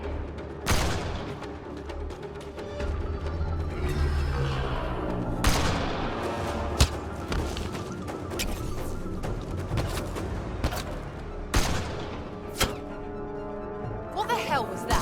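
Gunfire in a Mass Effect Andromeda firefight: scattered sharp shots and heavy impacts crack out at irregular intervals over a layer of combat noise and music, with voices shouting in between.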